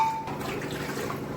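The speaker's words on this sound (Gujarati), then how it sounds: "કુકરમાં 3 ગ્લાસ પાણી નામી દીધું." Water is poured into a pressure cooker for cooking dal and rice. The liquid gushes and splashes fairly loudly at close range, with no speech.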